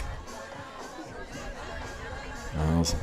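Crowd chatter from the third-base side at a Class A high school softball state tournament in South Dakota, a steady babble of many voices with a louder swell near the end.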